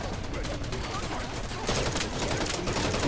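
Dense automatic gunfire crackles steadily during a match of the animal-themed shooter Wild Assault. The shots are loud, close and continuous, growing slightly heavier partway through, with voices talking underneath.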